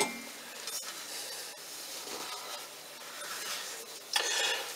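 Liquid fruit-tart batter being stirred in a bowl gives soft, continuous rubbing and scraping strokes, close and fairly quiet, with a slightly louder scrape near the end and no talking.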